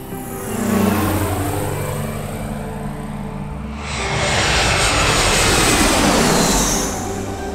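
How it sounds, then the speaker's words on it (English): Two Airbus A320 airliners land at a quiet airport, their engines roaring loudly and steadily, easing briefly before a second, fuller surge of jet roar swells up in the back half of the clip. "some cool slow-mo shots of those two aircraft landing"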